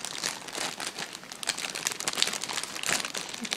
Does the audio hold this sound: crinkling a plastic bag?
yes